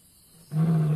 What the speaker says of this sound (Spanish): Su rugido es un arma poderosa